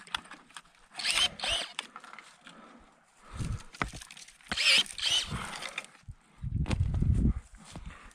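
DeWalt cordless battery pruner snipping through a branch: a few short bursts of whirring motor and snapping cuts, close up and fairly loud, with pauses between and no talk.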